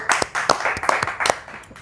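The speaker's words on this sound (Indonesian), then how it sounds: "tepuk tangan dulu teman-teman" A crowd claps at a motorsport riders' event in Indonesia, several quick sharp hand claps ringing out over roughly two seconds, close and fairly loud, with some voices mixed in.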